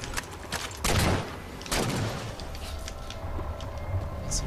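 Gunshots in the video game Halo 4 come as two heavy, booming blasts about a second apart, set over a dense rumbling battle din with faint distant shots.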